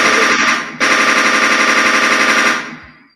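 Rapid machine-gun fire rattles loud and continuous for about two and a half seconds, broken by a brief gap, then fades out.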